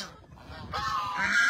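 Geese honking on a rural farm, loud close nasal honks rising after a short lull and overlapping at the end.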